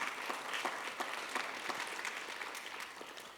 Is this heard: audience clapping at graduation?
yes